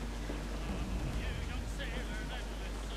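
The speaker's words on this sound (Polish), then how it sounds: "Co to się rozpadało? Czy ja pozwoliłem na deszcz?" Rain falls in the pirate video game Assassin's Creed IV: Black Flag, a dense continuous hiss with low rumbling beneath, under game sounds and someone talking.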